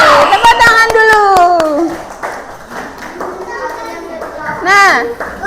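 Children in a classroom clap their hands in a quick run of sharp claps alongside a woman's sing-song voice, then excited kid voices and shouts follow.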